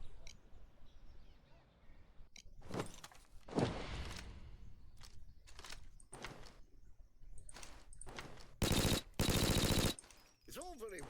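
Suppressed shots from an F2000 rifle with a medium suppressor in the heist game Payday 2, a run of sharp irregular pops followed by two dense automatic bursts and a trailing mechanical rattle.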